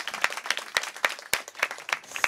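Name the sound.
audience applause for rap battle winner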